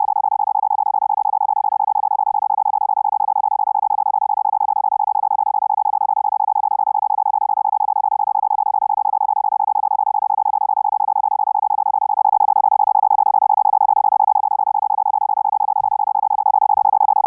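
A steady, loud electronic tone from a custom-built Morse code practice oscillator holds throughout, with a slightly harsher, fuller patch of edge noise near the end and a couple of brief low clicks.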